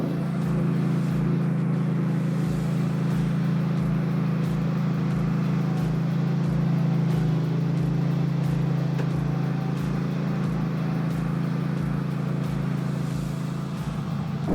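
A BOSS SnowRaider snowplow engine idles steadily and close by, a continuous low rumble with a faint rhythmic ticking, no voices.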